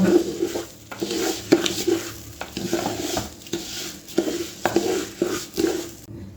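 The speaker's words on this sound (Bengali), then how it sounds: "এ পর্যায়ে দিয়ে দিচ্ছি আদা রসুন বাটা আবারও সবগুলোকে ভালোভাবে ভেজে নেব" Ginger garlic paste fried and stirred in a pan while making white polao with aromatic rice: a steady sizzle is broken by repeated scraping strokes of a spatula against the pan, close and fairly loud, with no talk.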